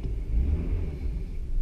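A car with a five-speed manual transmission pulling away, a low, steady engine rumble close by with no talking.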